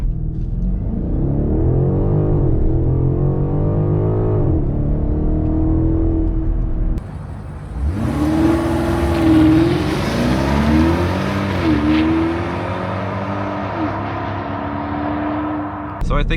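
A BMW X5 M50i launching hard under launch control, its engine held near 3,000 RPM before a strong, rising acceleration roar with gear-change dips, close and loud throughout, with a voice talking over the start.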